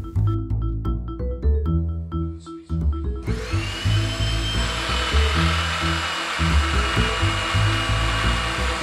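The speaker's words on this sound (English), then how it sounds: "begin crimping by actuating the pump" Eaton Aeroquip ET1000 hydraulic hose crimp machine with its pump running, a steady loud mechanical drone with rhythmic low pulsing that thickens into a dense, sustained whine partway through.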